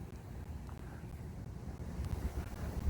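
Wind gusts buffet the microphone outdoors while a Hubsan Zino Pro Plus drone is being readied for flight, a steady low rumble that swells louder toward the end with no talking.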